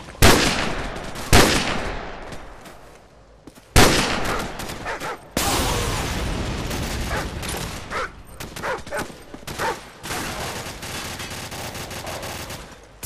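Bursts of automatic gunfire in Call of Duty: Modern Warfare come in sharp, loud volleys with brief pauses between them, then give way to rapid, rattling runs of shots toward the end.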